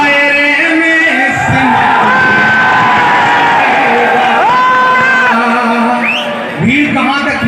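A large crowd at an outdoor political rally cheers loudly, with whoops and sustained yelling voices rising above a constant roar of noise.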